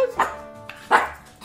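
A dog in a video game gives two bright, clipped barks about three quarters of a second apart, loud and close, the second stronger, with a soft tone lingering between them.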